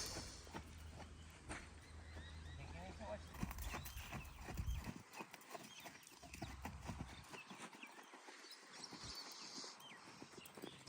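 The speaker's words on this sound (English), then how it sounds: "So Punch has quite an expressive canter." Horse named Punch cantering in an arena, rhythmic hoofbeats thudding steadily at moderate distance, with voices talking over them throughout.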